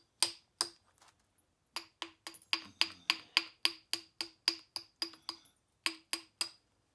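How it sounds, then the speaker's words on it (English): A hammer taps along the edge of a 4-inch-thick Georgetown stone spall to thin and straighten it, a close series of sharp ringing clinks in an uneven but steady rhythm, with a brief pause near the start. "I'm just tapping down through here trying to get me a straight edge on it"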